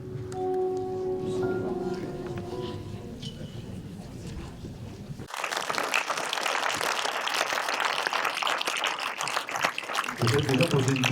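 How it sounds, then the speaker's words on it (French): A festival audience at a film screening breaks into dense, sustained applause after a short stretch of speech, and the clapping stays loud and continuous to the end. "Et je crois qu'on peut l'applaudir."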